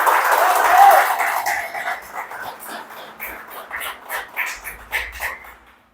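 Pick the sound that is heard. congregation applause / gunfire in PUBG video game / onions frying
congregation applause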